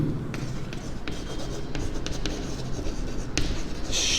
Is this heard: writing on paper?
yes